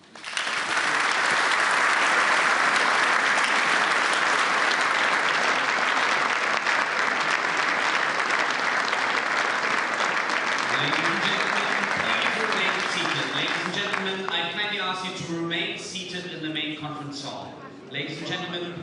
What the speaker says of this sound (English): Let's offer a round of applause.